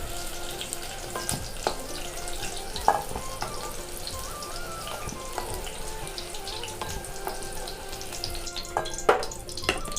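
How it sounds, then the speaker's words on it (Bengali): Eggplant pieces frying in hot oil for a begun posto dish, a steady close crackling sizzle throughout with a couple of brief clinks of a utensil against the pan, no voices. "বন্ধুরা, এমন করে ভাজতে হবে যেন তুলে না হয়, যেন গোটা গোটা থাকে।"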